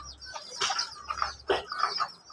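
Chickens cluck repeatedly in short, close bursts on sandy ground, with a low rumble underneath and no talking.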